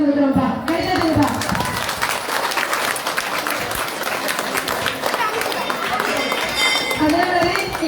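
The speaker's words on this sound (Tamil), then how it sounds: "கைதட்டுப்பா" An audience claps in honour at a Tamil gathering, a dense, steady wash of many hands close by for several seconds, with a few voices briefly heard at the start and end.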